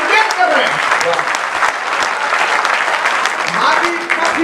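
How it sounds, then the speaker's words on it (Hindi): A crowd at a Hindi religious gathering applauds steadily, dense continuous clapping with someone speaking over it. "आपकी तालियां कमजोर है"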